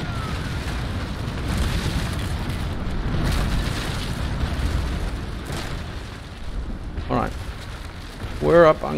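Naval Action ship battle with broadside cannon fire, a long rumbling roar of blasts and splashes, loud and sustained, followed by a brief spoken voice.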